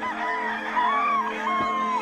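A lone rooster crows twice, in long, drawn-out calls, moderately close and fairly loud, standing alone with no talk over it.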